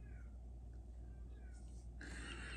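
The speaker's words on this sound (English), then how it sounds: "You can hear Stripey caterwauling" A house cat caterwauls faintly in a quiet room, a few thin, drawn-out wails rising over a low steady hum, then a brighter burst of noise near the end.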